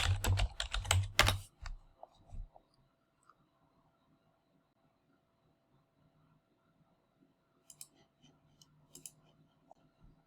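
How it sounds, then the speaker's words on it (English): A quick burst of computer keyboard typing rattles up close for about two seconds, then a few isolated key clicks follow across a mostly quiet stretch. "We'll go ahead and type in best of recipes."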